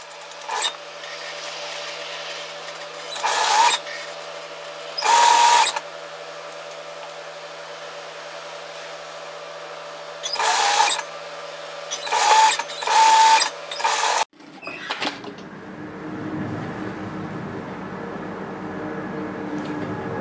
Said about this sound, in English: Now I'm going to sew this into place at 1 centimetre,